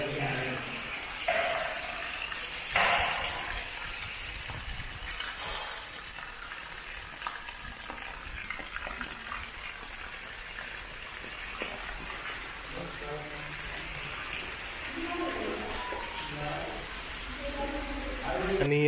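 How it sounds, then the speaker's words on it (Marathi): Light drizzling monsoon rain in Burambawade, a Konkan village in Devgad: a steady soft patter and trickle of water throughout, fairly faint, with a person speaking over it. "आणि मस्त पाऊस चालू झालाय पुन्हा एकदा रिमझिम रिमझिम"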